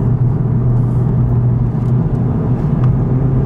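2019 Honda Civic Type R fitted with an Invidia Q300 exhaust, pulling in third gear, a loud, steady low engine rumble heard from inside the car with an even, smooth drone and no talking.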